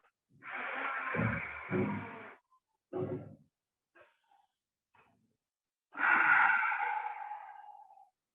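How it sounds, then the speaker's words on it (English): A slow breathing exercise done as a four-second inhale, hold and exhale, heard as long, soft airy breaths close by with quiet gaps between them. "4 seconds breathing in, holding and breathing out."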